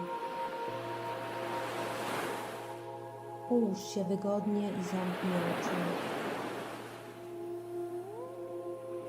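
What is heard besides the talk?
calm sea waves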